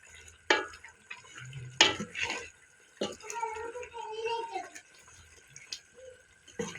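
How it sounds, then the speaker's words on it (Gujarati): A spoon stirs okra curry with yogurt in a pan, giving a few separate scraping and clinking strokes with short pauses between them. The strokes are close but fairly quiet, with a soft wet sizzle in places. "હવે બધું મિક્સ કરી દઈશું"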